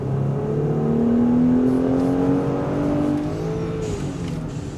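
Stock-sounding Mercedes GLE with the M276 turbo V6, exhaust valves closed, giving a steady, smooth drone with a low rise and fall in pitch as revs change, continuous and fairly loud throughout.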